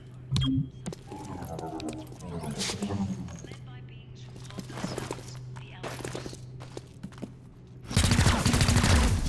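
Gunfire in the video game XCOM Chimera Squad, a loud dense burst of shots at the end, following stretches of quieter game sounds with a voice talking over them.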